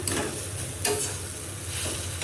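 Drumstick (sajna) pieces fry in a pan with a steady close sizzle and occasional stirring scrapes, loud and continuous, and no one speaks.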